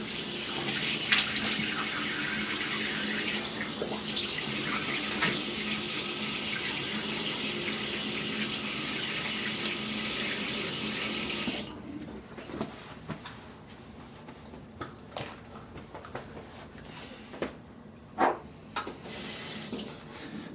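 A bathroom tap runs steadily for a rinse after a shave, a loud continuous gush that cuts off partway through, followed by quieter drips, splashes and handling sounds.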